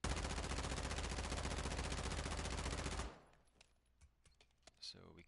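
A submachine gun fires a sustained full-auto burst in the Call of Duty DMZ game mode, rapid and loud for about three seconds, then stops abruptly, followed by quiet clicks and faint handling sounds.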